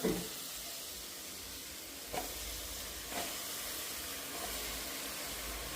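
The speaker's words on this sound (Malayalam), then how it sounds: "ഇനി നമ്മൾ നല്ല വൃത്തിയാക്കി വെച്ച ചിക്കൻ ഇതിലോട്ട് ആഡ് ചെയ്യാം" Chicken pieces go into hot masala in a pan, giving a steady, faint sizzling hiss with a few soft stirring scrapes, close and continuous throughout.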